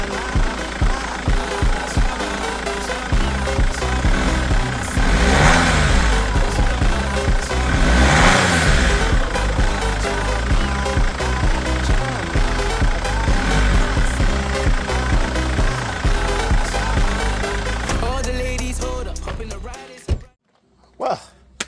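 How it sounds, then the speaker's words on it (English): BMW E90 320d with the M47 diesel engine, swirl flaps deleted, idling and running with a steady loud mechanical clatter and a few revs, then cutting off abruptly near the end. "sounds like a diesel, kicks like a diesel, hopefully drives like one"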